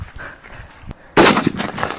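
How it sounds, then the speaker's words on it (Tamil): A 4 kg paper firecracker for Diwali bursts in one sudden loud bang after a quiet moment, followed by a rough crackling, rumbling tail as it keeps firing outdoors. "ஸோ அடுத்து பார்த்தீங்கன்னா 4 கிலோங்க பேப்பர் வெடி."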